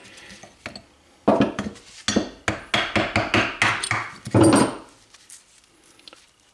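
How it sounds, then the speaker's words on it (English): Stuck old brake pads are worked out of a 2018 Honda Accord caliper with loud, close metallic knocks and clanks, first a quick run of hits, then a heavy scrape, then quieter shuffling. No speech. "First we just have to get the old pads out of there. Sometimes they can be pretty stuck in there."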